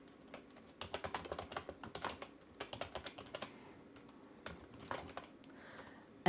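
Close, quiet typing on a computer keyboard in bursts of quick clacks with short pauses between, the keys loud against a silent room.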